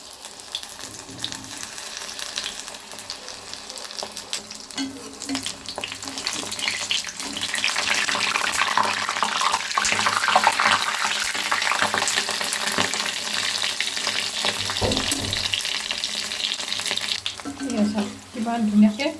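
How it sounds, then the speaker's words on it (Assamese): Pakoras (fritters) frying in hot oil, giving a steady crackling sizzle that swells louder partway through and carries on continuously, close and alone without talk. "তেলখিনি ধুনীয়া গৰম হৈ গৈছে পকৰীকেইটা দি দিওঁ"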